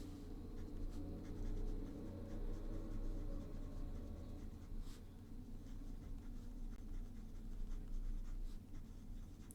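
Close, faint scratching of a fountain pen nib moving across paper in continuous strokes, over a steady low background hum.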